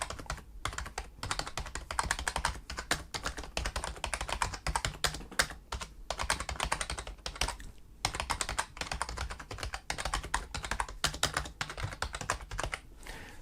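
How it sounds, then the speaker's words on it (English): Rapid, steady typing on an ASUS TUF Gaming K1 rubber membrane keyboard with soft, muted key presses in a continuous clatter, close up, with brief pauses between bursts. "So I guess I should do it justice and actually do some form of typing test."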